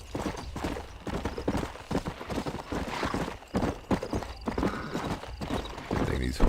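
Horses gallop in Red Dead Redemption, with fast, heavy hoofbeats pounding close and continuous, mixed with a whinny and someone talking over the action.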